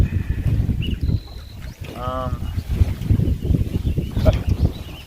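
Wind gusts across a lake during a canoe ride on Long Lake, Minnesota, with low rumbling microphone buffeting and faint water sounds throughout, while a voice speaks briefly partway through.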